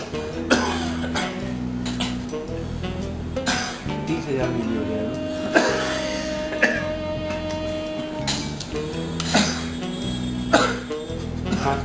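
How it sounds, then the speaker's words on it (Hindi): A person coughs in short repeated bursts amid an indoor conversation, the coughs punctuating steady speech from other voices in the room. "खांसना बंद करिए"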